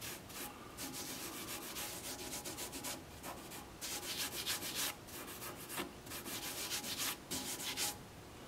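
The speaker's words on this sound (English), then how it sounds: "Then I just have a handful of the coarse stuff. And I'm just gonna rub it in there." A handful of coarse wood dust is rubbed by hand against a turned Russian olive spindle on the lathe, producing a steady, close, gritty rubbing with rhythmic scratchy strokes throughout.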